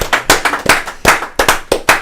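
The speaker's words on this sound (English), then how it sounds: "I got to applaud that, man." Sharp hand claps from a single person, loud and close, about ten slaps in an uneven quick rhythm over two seconds, with no talking.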